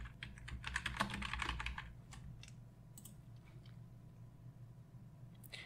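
Keys on a computer keyboard are typed in a quick burst of soft, close clicks, then a few scattered single taps over a quiet room hum.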